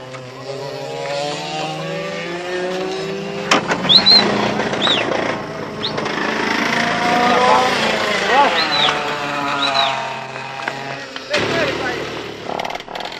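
A small racing kart engine driven by Ayrton Senna on a track in Brazil buzzes loudly and steadily with rising and falling pitch, mixed with talk.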